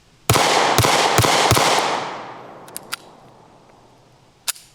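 A pistol fires four quick, loud shots that ring off into a fading tail, followed by a few faint, sharp clicks as a light primer strike causes a malfunction.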